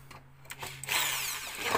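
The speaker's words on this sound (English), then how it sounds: "So I'm just going to use a drill and quickly get him in." A short burst of a power drill driving a screw in a car, briefly starting and then running steadily for about a second, close and fairly loud.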